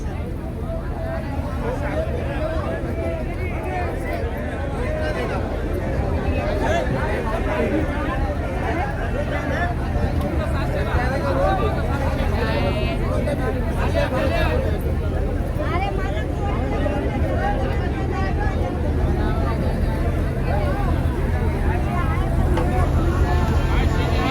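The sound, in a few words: busy fish auction at Sassoon Dock, Mumbai, with boats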